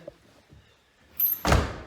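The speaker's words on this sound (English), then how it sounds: "Shut the door and lock it." A household door is shut and locked, heard as a faint metallic rattle followed by a solid close thunk near the end, nearby with no talk.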